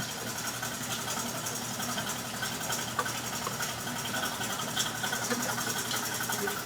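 An electric stand mixer runs steadily in a clean bowl, whipping egg yolks with milk and melted butter for Belgian waffle batter, a constant whirring motor hum with no talk.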